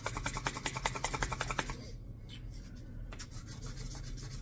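A hand file rasping across the metal of a gunstock, a run of rapid rhythmic strokes for under two seconds, then quieter rubbing and faint scraping, close and without talk.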